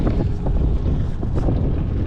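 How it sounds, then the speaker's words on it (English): A Hangkai 18 horsepower outboard motor drives a small boat across open water, a loud continuous engine drone mixed with heavy wind buffeting on the microphone, with no talking. "We got the Hangkai 18 horsepower."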